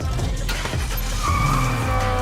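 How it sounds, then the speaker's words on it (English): A professional drifter's race car slides with loud, sustained tire squeal over a roaring engine, close and continuous with no talking. "He's also a professional race car drifter"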